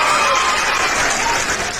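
Steady, dense applause from an audience at a peace-making gathering, loud and close, sustained evenly for a couple of seconds and fading slightly at the end.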